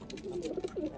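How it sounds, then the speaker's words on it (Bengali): A pet Bombai pigeon, kept with its mate, coos softly up close in a short run of low, throaty rolling calls. "এই যে আমার কিউট কবুতর, আর কিউট কবুতরের সাথে এটা হচ্ছে জোড়া"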